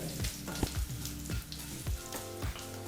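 A tempering of oggarane sizzles steadily in a frying pan, hot oil crackling with repeated sharp pops and spits close by while a spoon stirs now and then, no voices present.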